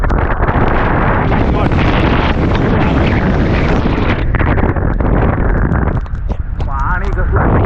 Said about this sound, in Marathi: एवढा जोरात वारा आहे इकडं खतरनाक